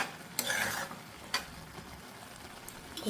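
Semiya kesari with ghee stirred in a pan, soft scraping strokes with a couple of sharper clinks of the spoon against the pan over a faint sizzle, quiet and close.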